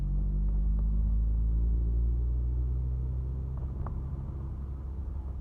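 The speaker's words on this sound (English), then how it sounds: "Exhaust sounds good through this next bit." A 1984 Mk2 Vauxhall Cavalier's exhaust drones steadily while driving, a deep continuous rumble heard from inside the car with no talk, easing slightly in level toward the end.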